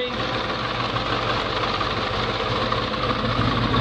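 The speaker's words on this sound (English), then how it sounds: "Got a nice little rumble sound to it." A 1971 Chevrolet K5 Blazer V8 with a roller cam idles with a deep, steady rumble and a faint rhythmic lope, close and continuous.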